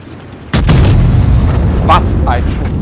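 Tank cannon fire in the World of Tanks Blitz game: a loud, sudden boom hits after a short quiet lead-in, followed by a sustained rumbling explosion wash with a couple of brief bursts layered on top.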